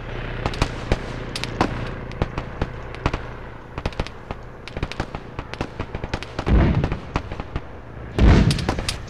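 Mortars firing in a military video game: a dense run of sharp cracks and pops at irregular intervals, punctuated by two heavier, rumbling booms late on, loud and without voices.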